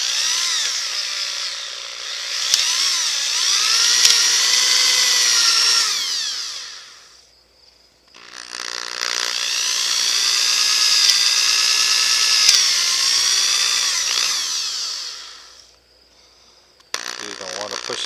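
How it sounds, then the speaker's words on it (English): A power drill bores into a piece of scrap wood in two long whining bursts, its pitch rising and falling under load, with a short pause between them and a brief third start at the end. "So you want to drill 4 holes."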